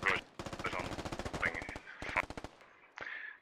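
Rapid bursts of automatic gunfire crackle in the tactical shooter game Squad, several rattling volleys separated by short pauses, followed by a sharper single blast.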